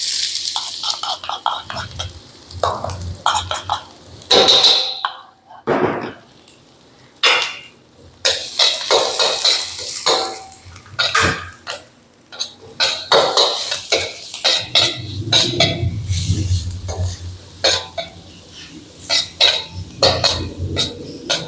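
Garlic and onion go into a pan for pork tail caldereta, and a metal spatula clatters and scrapes against it in busy, uneven bursts. Brief pauses and soft frying noise sit between the clanks, and no one talks.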